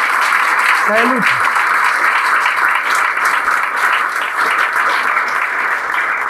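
Steady, dense audience applause fills the room at a constant level, with a short spoken phrase near the start and some cheering voices mixed in.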